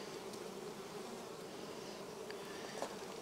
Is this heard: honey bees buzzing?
yes